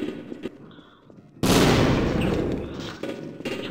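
A grenade detonates in Half-Life, a sudden loud blast at mid-clip whose rumbling roar decays over about two seconds after a few quieter game sounds, with no talking.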